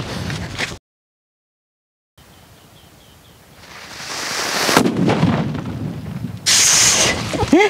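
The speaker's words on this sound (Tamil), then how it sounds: "ஸோ வெடி எப்படி மிரட்டுதா என்னென்னு வெடிச்சு பார்க்கலாம்" A 1.5 kg Sangili Karuppan paper firecracker goes off outdoors in a village, giving sharp, loud blasts with rushing noise around them after a brief silent gap.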